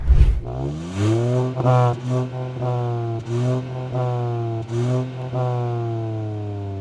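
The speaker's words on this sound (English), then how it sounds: "this exhaust has to be one of the sweetest sounding for any car up to 20 lakh rupees" A 2023 Hyundai i20 N Line hatchback's twin exhaust blips repeatedly, each sharp rev rising and falling over a steady idle hum, heard close with no talking.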